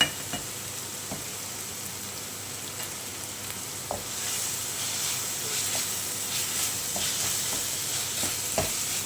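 Soft, steady sizzle of dried tiny shrimp sautéing with asafoetida and spice mix in a pan, with faint scattered taps of a spatula while stirring.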